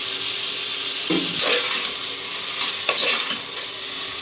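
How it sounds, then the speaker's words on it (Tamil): Tomato, coriander and mint sautéing for mutton biryani: a steady close sizzle and frying hiss, with a few spoon strokes scraping and stirring through the pan, no talking. "அப்புறம் வதக்கிக்கணும்."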